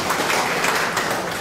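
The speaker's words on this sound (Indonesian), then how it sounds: "Kita berikan tepuk tangan bagi Pak Menkes" Brief burst of audience applause for Indonesia's health minister at a regional coordination meeting with NTT provincial leaders, a close, dense clatter of hands that stays steady over its short length.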